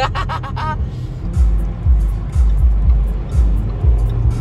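Engines of a Porsche GT3 and a Cadillac CTS with a 6.2-litre V8 racing on the autobahn, a low pulsing roar with rising and falling revs heard from a moving vehicle, preceded by a brief tonal honk-like sound.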